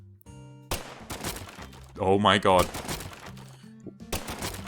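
Rubber-bullet gunshots from a non-lethal gun striking a wooden crate in the game Deadly Premonition 2, a few sharp cracks and thuds spaced apart, with someone talking and exclaiming over them.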